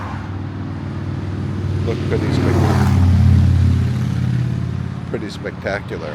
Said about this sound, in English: you could hear the traffic on 58, no fun